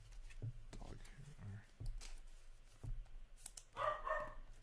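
A dog barking indoors, with a few short, fairly faint barks and yips scattered through the clip under a person's voice.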